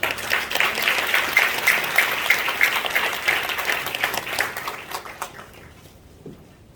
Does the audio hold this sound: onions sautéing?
no